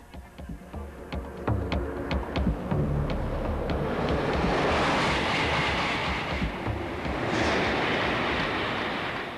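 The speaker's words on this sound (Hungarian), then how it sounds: "Ez pedig Németország nagysebességű vonata, az ICE." A German ICE high-speed train rushes past, starting with rhythmic wheel clicks over rail joints and building into a loud, sustained roaring wash of wind and rolling noise that holds to the end.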